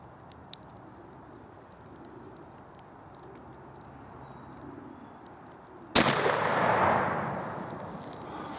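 A single sharp, loud blast from a New England Firearms 20 gauge shotgun fired outdoors, its report decaying into a long rolling echo after several quiet seconds of ambient outdoor background.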